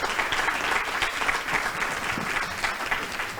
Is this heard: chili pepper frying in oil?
no